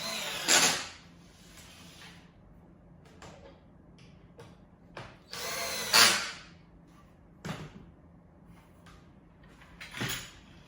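A power drill drives screws into a wooden car bed platform in a few separate bursts of close, loud whirring, with quiet pauses and small clicks and handling noises in between.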